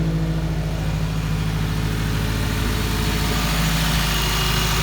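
A car engine idles near and loud with a turbo intake sucking air, a steady low rumble and vibrating hum holding evenly throughout with a faint airy hiss above, no voices.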